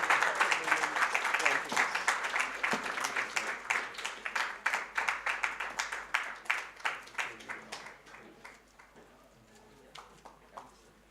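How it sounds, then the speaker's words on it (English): A conference audience claps to welcome the convener of a session on quantum physics and Buddhist philosophy, a dense round of applause that gradually thins into scattered individual claps and fades out. "please welcome him with a huge round of applause"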